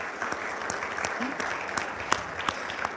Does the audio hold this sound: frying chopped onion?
no